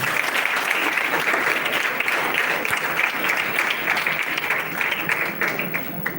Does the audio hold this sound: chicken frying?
no